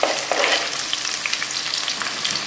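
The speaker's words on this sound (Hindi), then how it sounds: "सबसे पहले हम इसमें प्याज डाला है।" Chopped onion frying in a pot: a steady, loud sizzle with crackling spits throughout and no voices.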